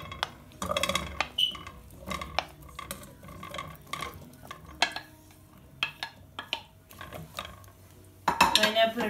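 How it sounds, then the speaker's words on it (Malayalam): A cooking pot set down in a home kitchen and chopped pineapple dropped into it for pineapple pachadi, heard as close, sharp metallic clanks and knocks with brief pauses, ending in a louder clatter. "ഞാനൊരു പാത്രം വെച്ച് അതിലേക്ക് പൈനാപ്പിൾ ഇട്ട്"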